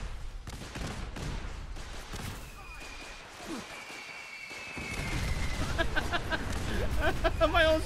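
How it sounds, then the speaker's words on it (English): Rapid video game gunfire and explosive booms in a chaotic firefight, with the player's own weapons turned against him. The bursts build louder toward the end, and a voice talks and reacts over the noise. "Oh, my own stuff is firing at me."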